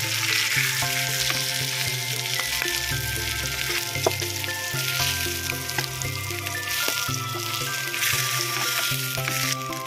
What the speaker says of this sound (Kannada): ನೋಡಿ ಎಷ್ಟು ಚೆನ್ನಾಗಿ ಫ್ರೈ ಆಗ್ತಿದೆ ಪೀಸಸ್ ಎಲ್ಲ